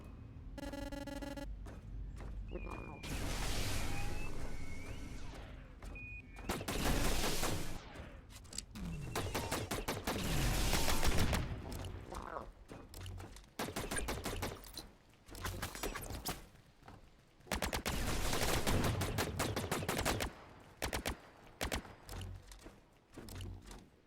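Gunfire rattles in The Signal from Tölva, loud repeated volleys of shots in several long bursts, separated by shorter pauses and fainter game noises.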